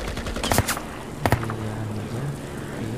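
Two short bursts of rapid gunfire crack out in the video game IGI, at a military airbase mission, separated by a pause, over a low humming background with a faint droning tone.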